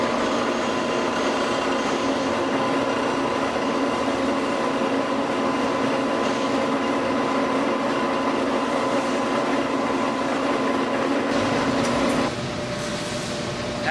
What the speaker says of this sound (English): we've pulled the cable off the drum by pushing the down control button while keeping tension on the slack rope roller